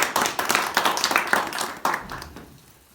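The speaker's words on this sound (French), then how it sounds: "On peut l'applaudir très fort" An audience at an evening outdoor performance in a castle keep in Montréal, Ardèche, bursts into sharp, uneven clapping close by, with scattered individual claps that thin out and fade toward the end.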